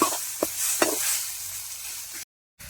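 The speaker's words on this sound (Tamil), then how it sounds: "நல்லா தக்காளி வெங்காயம் நல்லா மசிகிற அளவுக்கு வதக்கிக்கலாம்" Tomatoes and onions being sautéed down to a mash in a pan, a soft hiss of frying with two quick spatula scrapes near the start, then a brief cut to silence.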